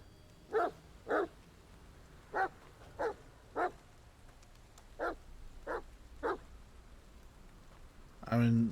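A dog in The Medium video game barks eight times in short, evenly spaced bursts, fairly close and clear over a quiet ambient background, followed by a louder thud at the end.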